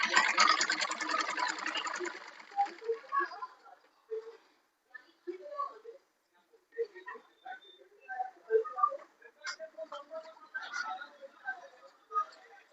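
A sewing machine stitches a thin fabric cord, whirring steadily for a few seconds, then breaking into sparse, quiet clicks and short stitching bursts.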